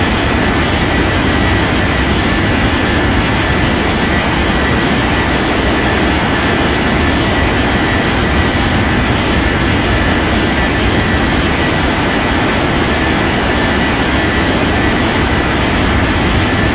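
Airplane taking off in an air traffic control video game, a loud continuous engine roar holding steady the whole way with no talk over it.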